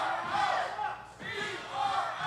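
A wrestling crowd at an OVW show roars and chants from a distance, swelling, briefly dipping, then rising again in a continuous wash of voices.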